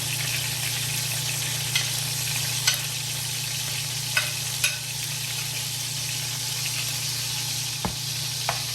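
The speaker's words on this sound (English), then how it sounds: "Let it saute a bit until it gets golden." Garlic sizzles steadily in melted butter in a pan, a dense, even frying hiss that runs throughout, broken by a few faint clicks from stirring, with no voices.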